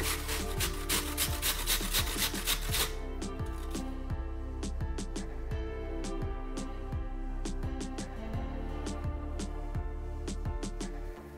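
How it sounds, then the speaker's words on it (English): Apples being grated on a handheld grater for pancakes, quick repeated scraping strokes, dense at first then slower and spaced out, close and clear over a quiet background hum. "If you prefer smaller apple pieces and more shapely pancakes, grate them with a grater just like this one."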